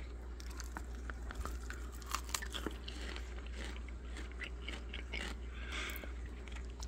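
Fresh home-grown broccoli, raised hydroponically, is bitten and chewed close to the mic: scattered crisp crunches and wet mastication clicks over a low steady hum, with a few sharper snaps; no talking.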